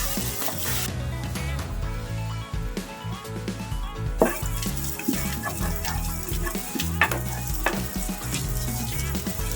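Garlic and onion frying together in a pan for ginisang pechay, a loud continuous sizzle with stirring scrapes and clinks throughout, close up and with no talking over it.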